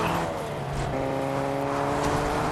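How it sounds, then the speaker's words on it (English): Video game cars, in Fortnite, hum and drone steadily with a few rising tones, like several cars driving close by at moderate speed. "Bro, the cars make so much noise,"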